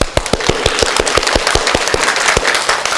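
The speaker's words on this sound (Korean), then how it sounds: "한 박수 한번 쳐볼까요?" A classroom audience claps in a quick burst of sharp, evenly spaced hand claps, loud and close, with no talking over it.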